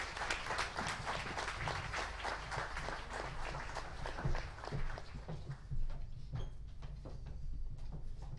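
An audience applauds the speakers at an event, a fairly soft and steady patter of many hands clapping that thins out toward the end.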